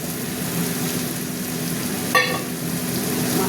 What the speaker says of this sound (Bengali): অনেকক্ষণ ভাজা হচ্ছে। এবার দিয়ে দিলাম মশলা